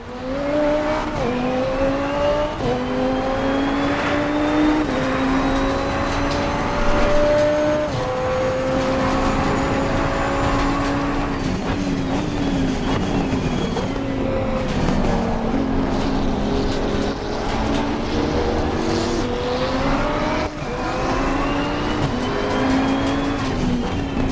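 A race car engine in the racing game Assetto Corsa Competizione revs up and down through gear changes, loud and continuous for the whole stretch, with tire noise and no voices.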